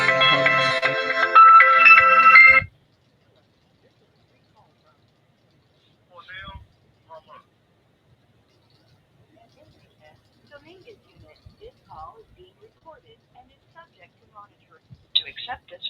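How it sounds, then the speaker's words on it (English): Telephone ringing with an incoming call, a loud dense electronic ring heard up close for about two seconds, then silence broken by faint, sparse clicks and distant handling noises. "Now I got a phone call, y'all."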